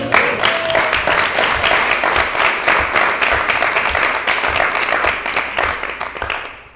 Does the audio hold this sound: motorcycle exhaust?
no